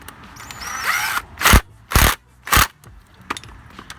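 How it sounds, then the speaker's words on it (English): A power tool tightens a bolt during clutch replacement on a Mitsubishi Evo X, three short loud bursts close by, then faint clicks. "I'm gonna tighten this bolt"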